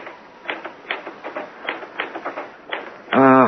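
Clattering typewriter keystrokes in an old-time radio mystery drama, several irregular bursts of key strikes at moderate loudness, ending in a brief ringing bell-like tone.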